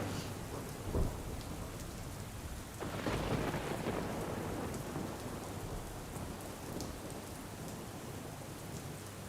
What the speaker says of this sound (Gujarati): સાબરકાંઠામાં જે રીતે વરસાદ વરસી રહ્યો છે